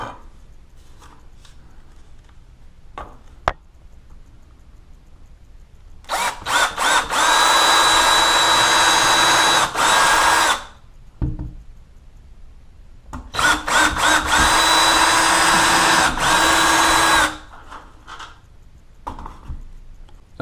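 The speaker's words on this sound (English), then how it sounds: "with your drill bit, just make sure your drill bit is a little bit smaller than your screw. So we'll go ahead and make some holes here" Power drill boring screw holes to mount a horizontal blind bracket, two loud whirring bursts of about four seconds each separated by a pause, close and with no talking.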